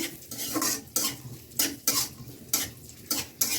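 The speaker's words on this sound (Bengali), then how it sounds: "কড়ার মধ্যে ঘি দিয়েছি দিয়ে এখন এখানে কাজু বাদাম কাঠবাদাম আর কিশমিশ একটু ভেজে নিচ্ছি" Cashews, almonds and raisins frying in ghee in a kadai, faint sizzle under sharp metal spoon scrapes and clinks against the pan that recur about every second.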